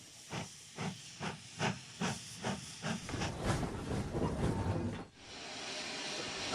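A steam engine gives about eight rhythmic, evenly spaced chuffs, then a rougher burst of steam, and finally a steady hiss, all fairly faint, with no talking.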